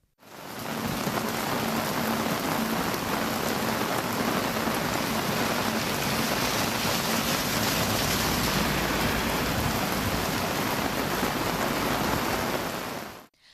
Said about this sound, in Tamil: விட்டுவிட்டு மிதமான மழை பெய்தது.